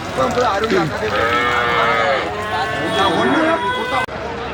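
Cattle moo repeatedly at a busy livestock market in Karimangalam, several long bellowing calls near and overlapping amid crowd chatter and voices throughout.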